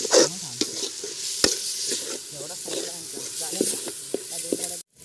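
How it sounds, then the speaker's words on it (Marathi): Chicken being stirred into a masala gravy in a pot at an outdoor riverside cook-up, with scraping stir strokes and a soft sizzle running throughout at close range. "बघू त्याच्यात चिकन टाक"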